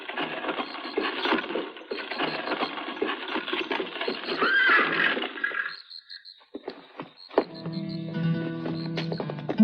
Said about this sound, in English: a horse-drawn wagon slinks through the gathering dark